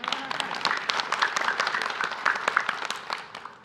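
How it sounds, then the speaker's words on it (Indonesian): Scattered applause from an audience at an Islamic religious talk, a steady patter of hand claps at moderate distance, lasting throughout with no clear speech over it. "Ibu kalau mau tepuk tangan gak apa-apa."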